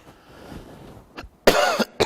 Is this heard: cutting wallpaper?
no